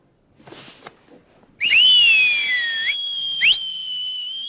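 An elderly man whistles in a cartoon scene, a clear sustained tone with a rising sweep and a held pitch, preceded by a faint brief sound and close to the listener.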